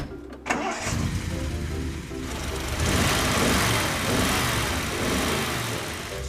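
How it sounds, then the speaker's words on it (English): A 1974 Triumph Stag V8 cranks and starts, then runs at a loud, rough idle close by, the engine note steady with a slight rise in the middle. "Engine itself sounds all right."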